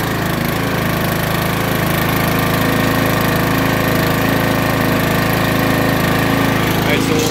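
A Yard Machines 42-inch 17.5hp riding mower engine runs at a steady idle, a loud continuous close-up drone with a faint knocking texture throughout.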